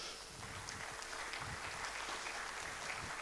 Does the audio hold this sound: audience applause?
yes